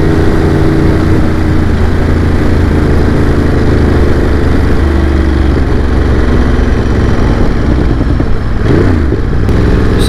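A Ducati Monster motorcycle engine running loud and close during a test ride, a steady low rumble with a constant throbbing drone and a brief rev change near the end, no talking.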